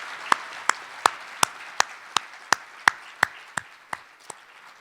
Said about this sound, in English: Can we another round of applause?